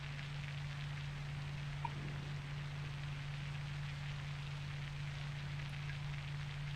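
Steady rain falling in the SimAirport airport-management video game, a constant soft hiss with a low hum underneath, even and unbroken throughout.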